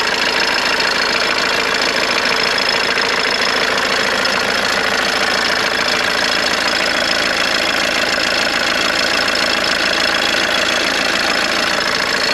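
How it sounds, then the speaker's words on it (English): A loud, continuous diesel engine idle from a Mercedes W201 190D rumbles close by with an uneven, slightly rough and knocking texture, steady for the whole stretch with no voices. "engine runs good, a bit rough"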